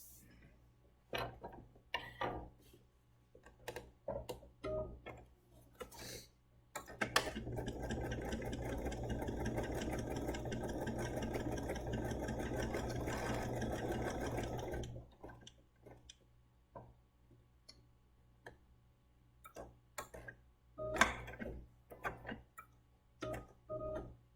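A BERNINA sewing machine stitches in one continuous run of about eight seconds, a close steady whir set between quiet stretches of faint ticks and handling clicks.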